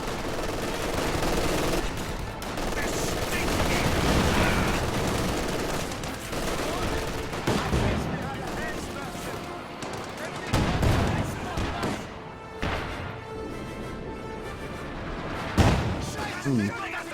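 Dense artillery and gunfire from a competitive military video game match featuring a pack howitzer, with sustained volleys, repeated heavy booms and bursts of automatic fire, loud and continuous, with a voice talking over the battle.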